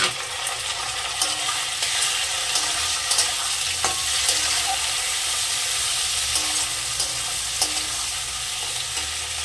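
Chopped tomatoes hiss and sizzle as they fry with potatoes and onions in a pan, a steady close crackle with a few sharper spikes from stirring throughout.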